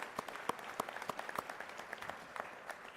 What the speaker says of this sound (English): Can we get a round of applause for San Angelo